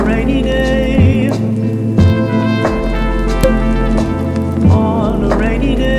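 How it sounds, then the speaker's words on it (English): Indoor artificial rain in a Seoul café makes a steady, close patter throughout, blended under a loud song with a singing voice. "it's the one where it rains, artificially."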